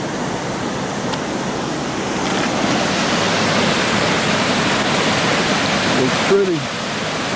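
A Yellowstone waterfall and the river below it roar in a steady, dense wash of rushing water that fills the scene, with a voice speaking briefly over it.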